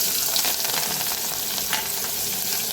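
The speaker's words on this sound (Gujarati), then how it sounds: "પછી લસણ મરચું ગળી તતરી જાય એટલે આપણે લસણ મરચું એડ કરીશું." Garlic and chili hiss and crackle as they sizzle in hot tempering oil with fenugreek powder and asafoetida, a loud, steady frying sound close up with no voices.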